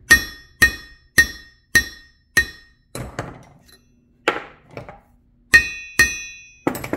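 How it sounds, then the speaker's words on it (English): A hammer strikes a bare, stripped VW crankshaft in a garage, producing a series of sharp metallic raps that ring out briefly, about ten hits at a steady pace with a few duller, scrappier knocks mixed in between. "make sure the crank is completely naked before you whack it with a hammer"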